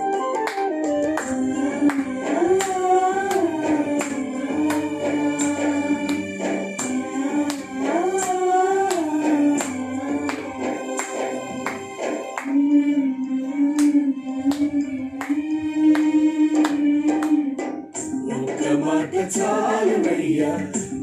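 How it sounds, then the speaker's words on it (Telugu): A church congregation sings praise to God while clapping hands in a steady rhythm beneath the loud singing and accompanying music, the claps running evenly throughout. "అందరు చప్పట్లు కొట్టు దేవుని స్తుతించాలి."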